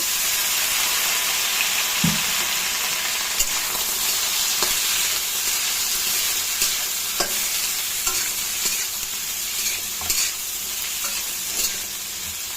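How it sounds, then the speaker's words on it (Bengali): Boiled figs frying in hot oil in a pan for a fig curry, a loud, continuous close sizzle with occasional soft knocks and stirring touches scattered throughout, no voices. "ডুমুরটাও আমি একইভাবে একটু ভেজে নেব"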